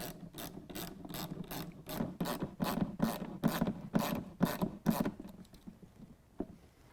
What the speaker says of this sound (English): we're going to go ahead and tighten down this band clamp using a 5/16